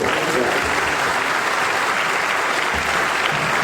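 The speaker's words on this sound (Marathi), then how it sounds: "एकदा जोरदार टाळ्या होईल" A loud, dense burst of audience applause at an interview event, steady and continuous throughout with a crowd clapping together close by.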